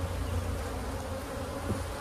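Honey bees swarming around large hives outdoors, a dense continuous buzzing hum that stays loud and close throughout, with no talking.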